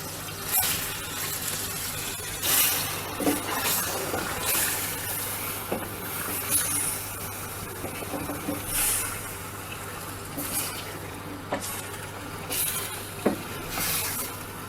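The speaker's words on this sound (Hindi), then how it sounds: "यहाँ पे फ्लेम हमने थोड़ा सा हाई कर दिया है। इसको हम थोड़ा सा फ्राई करेंगे जब तक चिकन का कलर चेंज नहीं हो जाता।" Chicken sizzles in a karahi over a high flame, cooked restaurant style with crushed garlic: a steady, close hiss of frying with scattered small pops and a low background hum, and no voices.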